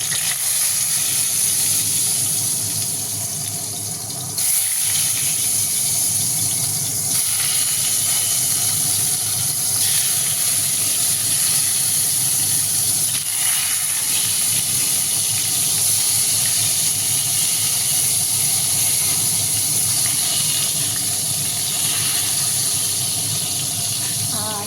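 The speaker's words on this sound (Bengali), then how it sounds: "বেগুনটাও ভেজে নেব।" Eggplant fries in hot oil in a pan, giving a steady loud sizzling hiss that continues unbroken with occasional soft crackles.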